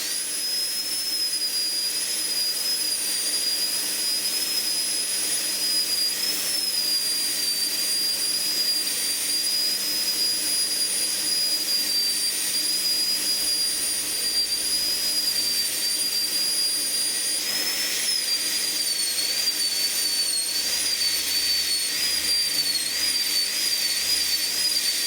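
A high-speed dental handpiece cuts a tooth during a PFM crown preparation, giving a steady, shrill, piercing whine that holds for the whole stretch with slight dips in pitch and no talking.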